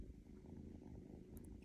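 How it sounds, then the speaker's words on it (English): A tiny kitten purrs close up, a soft, steady low rumble running through the whole stretch with no talk over it. "This tiny little purring."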